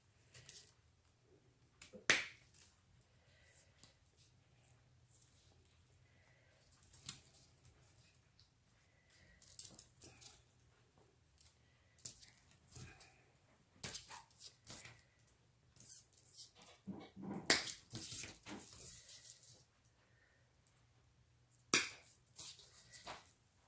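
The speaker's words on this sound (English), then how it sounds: "I'm just going to cut them off of the branch" Stems being cut off a branch while assembling a wreath, heard as scattered sharp snips and clicks spread across quiet stretches, with one denser burst of cutting near the end and no talking.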